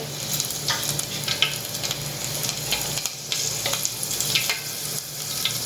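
Cumin seeds, a bay leaf and a halved green chili sizzle in hot oil for chole bhature, a steady, close crackling fry with faint stirring scrapes and no talk.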